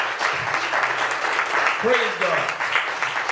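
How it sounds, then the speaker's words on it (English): Congregation clapping hands in praise during a church service, a sustained wash of clapping under a voice speaking briefly. "Y'all give God a hand clap of praise."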